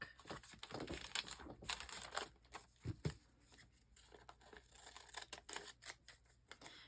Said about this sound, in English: I'll trim that in a sec.